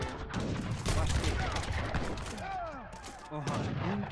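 Cannons in an Age of Empires 3 campaign battle fire in a cluster of booming, overlapping shots amid busy battle noise, followed by quieter unit sounds.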